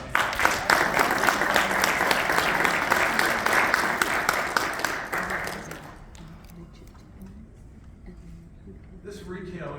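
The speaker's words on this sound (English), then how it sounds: "round of applause one more time for everything" Applause for an award recognition at a comic book awards ceremony at C2E2, a dense, loud round of clapping from a crowd lasting about six seconds, then fading to quieter room sound with scattered claps.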